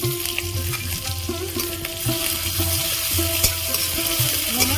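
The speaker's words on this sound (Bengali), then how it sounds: "তেল গরম হয়ে গেছে রসুন কুচি দেব আদা কুচি দেবো" Chopped garlic and ginger sizzle and fry in hot oil, a steady crackling hiss with occasional stirring scrapes, close and continuous.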